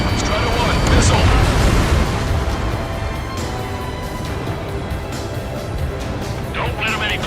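Missile explosion in the Ace Combat 7 air combat game: a loud, rumbling blast that swells early and then settles into a sustained roar, with voices speaking over it.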